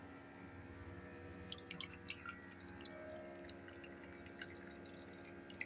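Quiet, close water dripping from squeezed grated coconut, a cluster of small drops falling in quick succession over a faint steady hum.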